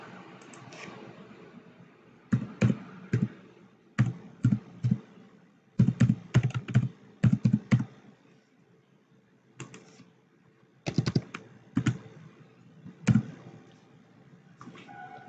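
Typing on a computer keyboard while entering text in MS Excel: irregular bursts of crisp key clicks, close and moderately loud, in short clusters separated by pauses, with no talking.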